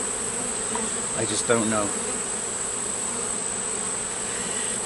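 Honeybee drones and workers buzzing steadily at an open hive during a September inspection, a continuous close insect hum with a brief spoken remark from a beekeeper over it.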